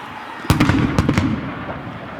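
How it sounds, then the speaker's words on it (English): A cannon fires at a college football game, Rutgers at Maryland, as the clock winds down: a loud close boom followed by two more sharp blasts about half a second apart over a steady crowd roar. "And the cannon started to fire off."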